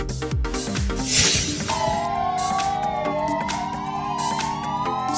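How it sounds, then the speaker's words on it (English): A Spanish police car siren wails alone, loud and close, its two-tone rising and falling pattern sweeping continuously over engine rumble. "Spain Police Car."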